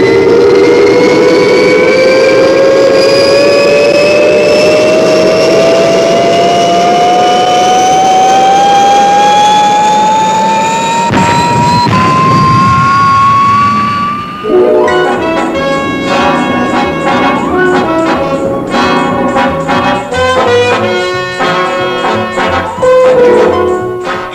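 A space patrol ship liftoff sound effect rises as a loud, continuous engine roar with a climbing whistling tone, then gives way to a rapid, pulsing mechanical clatter for the last ten seconds.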